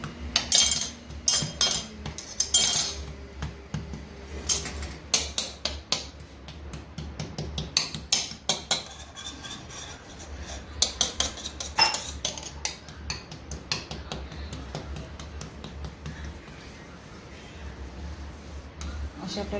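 A spoon repeatedly taps and scrapes hot sesame chikki mixture, gathering it on a stone slab, giving a close, busy run of clicks and scrapes with speech heard in between.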